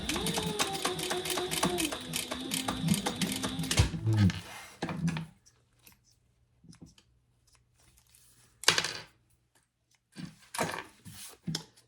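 A sewing machine runs in a steady, continuous burst as it top stitches the folded edge of a fabric eyeglass case pouch, then stops; a few short scattered handling noises and brief bursts follow in a quiet room.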